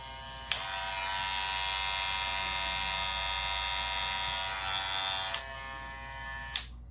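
Close, steady buzzing of a Wahl Vapor electric hair clipper running for several seconds, with a click at the start and clicks near the end as it stops.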